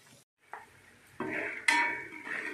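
Chickpeas fry in oil in a wide pan, giving a steady soft sizzle broken by scraping stirs and light clinks of a utensil against the metal, with no voices.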